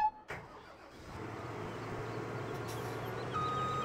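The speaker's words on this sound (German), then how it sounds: "eine Runde die Drescher nach vorne fahren" Combine harvesters driving in Landwirtschafts-Simulator 17, heard as a steady low engine drone that builds after a brief opening knock and holds continuously, moderately loud and close.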